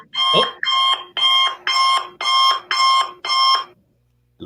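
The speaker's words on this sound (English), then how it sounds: "I was playing an alarm to wake you up." An alarm plays through a live stream as seven evenly spaced, loud electronic beeping bursts with a strong harmonic buzz, followed by a brief silence, with no one talking over it.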